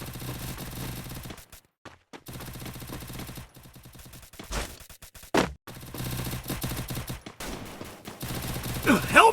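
Rapid bursts of automatic gunfire from a mobile shooter game crackle in dense rattling strings, broken by short silent gaps and a couple of sharp single shots, with a voice briefly heard among them.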